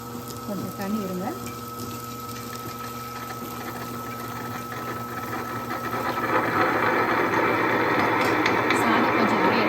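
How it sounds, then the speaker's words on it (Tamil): Mixer grinder blending cooked rice with a little water for appam batter, a steady motor whir that builds louder and denser after a few seconds, with a brief voice near the start. "சாதம் கொஞ்சம் அரையட்டும் லேசாக."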